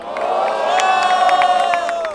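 A loud crowd at a Brazilian rap battle final cheers and shouts continuously, with whoops and scattered sharp claps rising over the roar.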